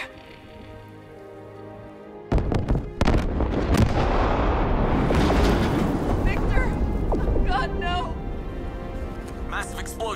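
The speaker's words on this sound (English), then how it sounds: "Explosion in the bay." A sudden loud explosion in Batman: Arkham Knight bursts in, followed by a long rumbling roar and crackling debris, with voices and scattered sharp pops afterward.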